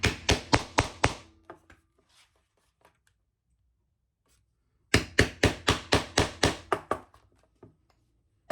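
Hammer strikes setting a gold rivet into a sewn bag, two quick bursts of about seven to nine sharp, close taps each, separated by a quiet pause.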